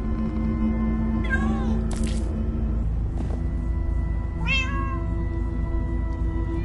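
A game cat in Minecraft Story Mode meows a few times, rising calls standing out over a steady, busy bed of game music and ambience.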